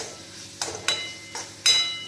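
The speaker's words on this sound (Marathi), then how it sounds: "मध्ये मध्ये हलवत राहायची छान." Spinach simmering with tomatoes in a pan for dal palak is stirred in a few separate scraping strokes, quiet and close, with no talking.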